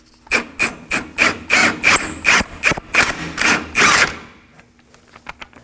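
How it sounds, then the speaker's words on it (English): A 24mm socket turns out the strut assembly bolt on a 2014-2020 Acura MDX, a close, loud run of about a dozen rapid ratcheting bursts in quick rhythm, then fading to a few light clicks. "for the bolt that holds the strut assembly, it's going to be a 24mm socket"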